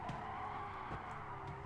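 A midship race car braking hard in Gran Turismo Sport, its engine droning steadily under a thin, continuous tire squeal over a short stretch.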